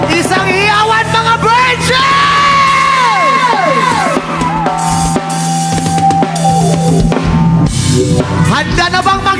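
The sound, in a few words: crowd cheering and shouting at live band concert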